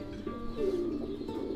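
A fighter pigeon gives a short, soft coo close by, faint against steady background murmur, with no talk.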